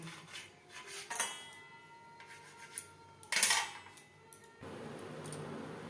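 A knife cuts through slices of bread on a kitchen surface, with a run of scraping, sawing strokes and a few sharper clinks of the blade, all close and without talk.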